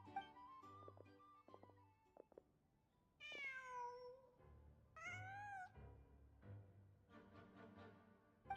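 A cat in a video game meows twice in long, clear, drawn-out calls, close and distinct over faint game background sounds and a low musical hum.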